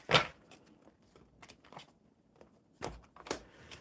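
A deck of oracle cards is shuffled up close, with a sharp riffle burst at the start followed by soft, intermittent rustles and flicks at a low level.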